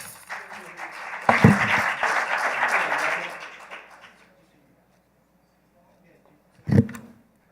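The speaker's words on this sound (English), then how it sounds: "Let's clap her up." An audience at a youth and college forum in New York City applauds for a couple of seconds before the sound fades to silence, with a short, sharp burst near the end and speech mixed in.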